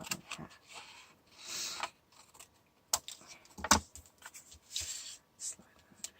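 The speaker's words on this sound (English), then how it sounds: "take my snips and cut this one in half" Snips cut through card stock for a handmade stamped card, a few quiet crisp snaps and rustles of paper handling at a desk, faint and close with brief pauses between.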